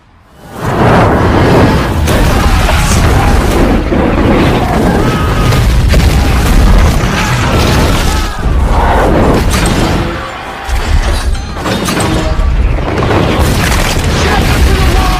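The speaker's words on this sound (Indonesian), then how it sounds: "Raja Saladin menyerang istana itu dengan hantaman bom katapult. Sedikit demi sedikit benteng kokoh itu hancur" Catapult bombardment pounds fortress walls during a siege of Jerusalem, a dense, continuous roar of booming explosions, crashing impacts and whooshes that stays loud and layered throughout, fading briefly near the end before resuming.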